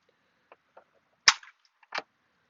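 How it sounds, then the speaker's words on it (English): A spring-loaded punch from a Craftsman tool cart snapping, with a few faint clicks leading up to two sharp close snaps about a second apart. "This is a punch. It's a spring-loaded punch."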